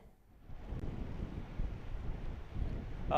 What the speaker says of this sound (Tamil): நீங்க இருக்கிற பகுதியில பலத்த காற்று வீசி வருகிறது.